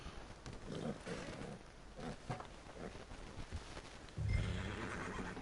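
A horse in the video game Red Dead Redemption 2 whinnies, quiet and a bit distant, with soft hoof clip-clops and low ambient game sound around it and a slightly louder thump near the end.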